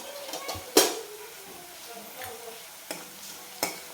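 Coriander powder and other spices are stir-fried in a pan for a besan vadi curry, with a soft sizzle under loud metallic spoon clanks against the pan at irregular intervals.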